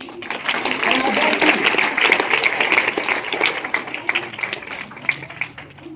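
An audience at a school quiz competition prize-giving claps in a steady, moderately loud patter, mixed with some voices in the room.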